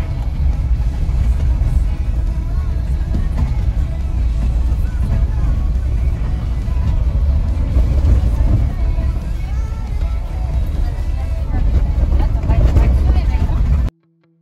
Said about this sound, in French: Quand j'accélère fort, ça patine.